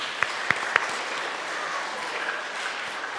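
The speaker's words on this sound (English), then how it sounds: "Let's give them a round of applause" A school chapel congregation applauds student leaders, starting with a few sharp nearby claps that settle into a steady, moderately loud wash of clapping.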